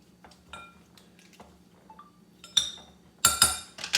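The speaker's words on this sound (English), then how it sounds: "then we're just going to stir this a little bit" Salad is stirred in a bowl after dill pickle seasoning, salt and pepper are added. Light clinks and taps come first, then louder clattering scrapes of a utensil against the dish toward the end, close by.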